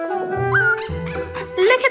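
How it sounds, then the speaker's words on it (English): Small puppies whimpering and yipping close up, several high squeaky cries and yelps in quick succession. "cuddle Claire's adorable little puppies"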